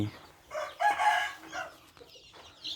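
Chickens on a small backyard farm clucking close by in short bursts, with a brief crowing-like call and some bird chatter, with no voices.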